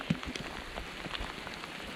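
Steady rain falls in the Australian bush during a wet evening pig hunt, a dense, even hiss of drops on surfaces with faint scattered patters throughout and no talking.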